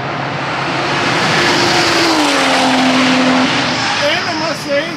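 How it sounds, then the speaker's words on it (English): Porsche GT4 RS race cars scream along a straight, with a loud, high engine note that sweeps past and falls away as they pass, and talk underneath. "the Porsche GT4 RSs, or Club Sport, whatever they call them, they sound the best"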